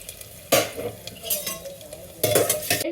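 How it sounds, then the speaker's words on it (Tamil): Whole garam masala spices fry in hot oil for a South Indian parotta salna, with a steady sizzle broken by two loud bursts of stirring and utensil clatter in the pan. "எண்ணெய் சூடாயிருச்சு. நம்மளோட கரம் மசாலா இன்க்ரீடியன்ட்ஸ் எல்லாத்தையும் போட்டுருங்க."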